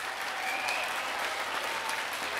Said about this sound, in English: Can we give all our speakers a round of applause again?